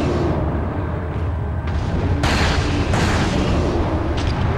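Resident Evil 4 gameplay, with the Broken Butterfly magnum firing at giants. A few heavy booming shots are spaced about a second apart and ring out loud over a dense, rumbling backdrop.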